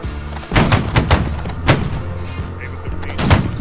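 Musket volley fire from a line of soldiers in the video game Holdfast during an online line battle, several booming shots in quick, ragged clusters, loud and near, alongside deep thuds.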